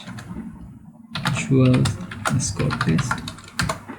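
Close computer keyboard typing to enter a folder name comes in quick bursts of clicky keystrokes followed by a brief pause.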